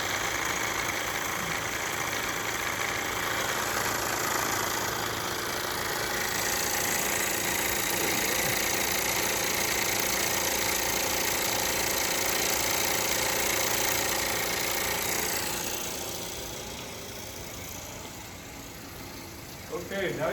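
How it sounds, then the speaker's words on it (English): A small steam engine with a flywheel runs steadily and continuously with a mechanical hum and rattle, then drops in level near the end. "A functioning steam engine."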